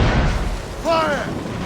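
Cannons on a sailing warship boom during a naval battle in Assassin's Creed Rogue, a dense rumbling barrage under battle noise, with a brief shouted voice partway through.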